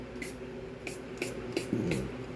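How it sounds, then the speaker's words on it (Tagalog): Perfume sprays in several short hissing bursts, roughly evenly spaced, close by and fairly soft. "Oh, magpabango ka, Ben."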